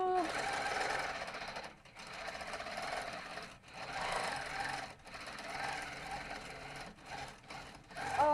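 A longarm quilting machine stitches a butterfly design, its steady rapid needle chatter running continuously with brief pauses and swells as the head moves, while people talk over it.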